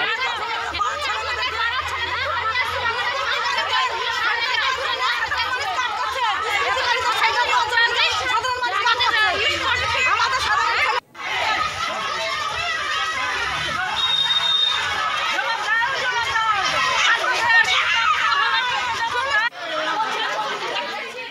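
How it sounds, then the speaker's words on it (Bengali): A crowd of women protests outside Sandeshkhali police station, with dense, continuous overlapping voices, shouting and chatter filling the scene loudly throughout and only a brief break midway. "মহিলাদের বিক্ষোভ থানার সামনে পৌঁছে গিয়েছে"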